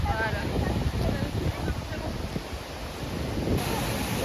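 Strong wind buffets the microphone in a Moroccan valley, a constant rushing roar with gusts, while people talk over it.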